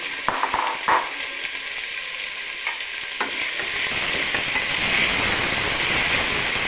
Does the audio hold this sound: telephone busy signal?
no